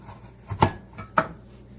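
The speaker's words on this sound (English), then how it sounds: "whatever carrots you have, I just slice them" A knife slices through carrots on a cutting board in a home kitchen, two distinct cutting strokes about half a second apart, close and moderately loud, with quiet room tone between them and no voices.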